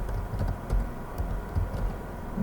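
Keys tapped on a computer keyboard while a website name is entered, a quick run of close, light clicks over a low steady background hum.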